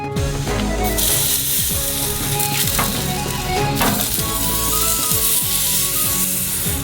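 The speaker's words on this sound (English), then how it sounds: "It remains to only add a crust to it, so we do this on the same grill." Steak sears on a grill to build a crust, a loud steady sizzle with scraping and rubbing sounds over it, close and continuous throughout.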